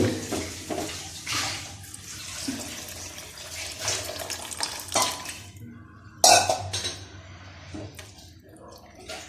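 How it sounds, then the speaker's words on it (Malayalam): Water splashes and pours into a pan of stingray curry up close, with clinks of cookware and a voice now and then. "വെള്ളം ഒഴിക്കാം."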